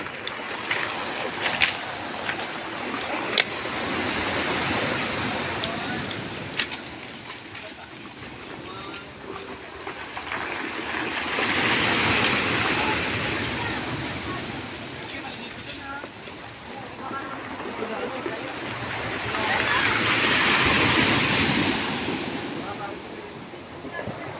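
Big ocean waves roll onto a beach at Dipaculao, surging into broad roaring washes every several seconds over steady wind and surf noise, with people talking nearby.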